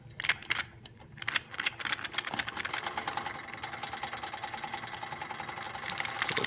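A Wilesco D455 model steam engine runs with a fast, regular mechanical clatter. It opens with a few irregular knocks, then settles into a steady, fairly quiet rhythm that gradually builds, with no voices.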